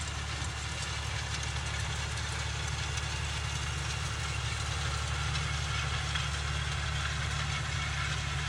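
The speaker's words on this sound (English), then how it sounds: "Tractor's not really working that hard either" A tractor engine drones steadily and loudly throughout while drilling with a Vaderstad drill, a constant low rumble with a rhythmic knock and no pauses.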